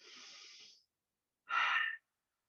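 Two breaths during a standing knee-to-chest stretch in an exercise class: a soft, longer exhale followed after a pause by a sharper, louder breath, close and alone.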